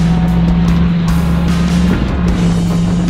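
Car sliding half sideways through deep mud ruts in Death Valley during Hurricane Hilary, a loud steady engine drone with a strong low tone and bursts of spray and churning.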